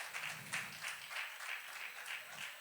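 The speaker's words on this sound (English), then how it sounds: "Preeti, show your face, stand up. Big round of applause." Faint, steady clapping from an audience at a film trailer launch, a brief stretch of even applause heard from a distance with no voices over it.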